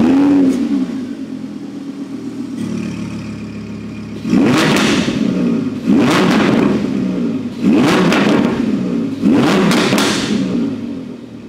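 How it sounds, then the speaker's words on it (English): An Audi R8 5.2 FSI V10 revs hard four times in a row, each burst loud and close with a rising roar that falls back to idle between blips. "V10. Sounds absolutely amazing."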